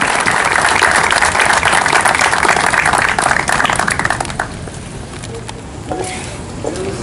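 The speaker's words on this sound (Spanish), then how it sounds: "con un aplauso de parte de todos los invitados" Guests at a municipal palace inauguration applaud loudly and densely, the clapping holding for several seconds before thinning out into scattered claps and quieter room noise.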